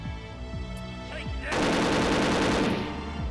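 Guard firing an automatic weapon at targets in Perfect Dark, a loud sustained burst of rapid shots over steady background game music.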